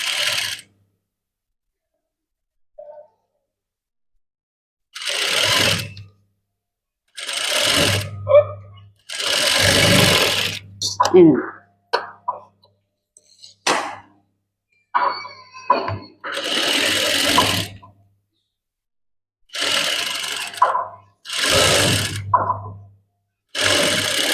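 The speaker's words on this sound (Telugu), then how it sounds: "ఇప్పుడు దీన్ని కూడా సేమ్ ఇప్పుడు ఈ ముందు భాగంకి పైనుంచి కూడా కుట్టేసుకోవచ్చు." Sewing machine stitching a maggam work blouse, running in several short bursts of whirring separated by pauses, with a voice speaking between and over the runs.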